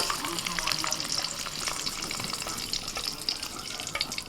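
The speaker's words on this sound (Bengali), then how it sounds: "ডিমগুলো এরকম হালকা করে ভেজে তুলে নিচ্ছি" Eggs seasoned with salt and turmeric frying lightly in oil, a continuous bright sizzle with sputtering crackles and occasional stirring, close and fairly soft with no voices.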